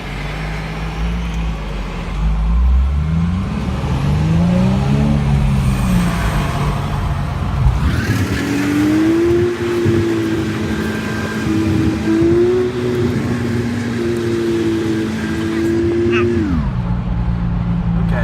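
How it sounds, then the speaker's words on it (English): A 2006 Nissan 350Z sports car engine drones steadily, then rises in pitch as it revs up about halfway through and holds there before settling back down near the end. "let's see if we can hear the sound of the car"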